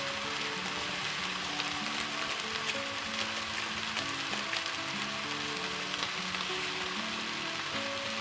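Green chili fried rice sizzling and frying in a pan while being stirred, a steady close crackle with soft intermittent scraping, no voices.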